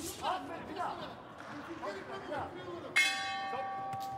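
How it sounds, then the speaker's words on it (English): A boxing bell rings at the end of a round at an international amateur bout, one loud metallic clang with a ringing tail that cuts in over a commentator's steady talk and the arena murmur. "Bell goes at the end of the round."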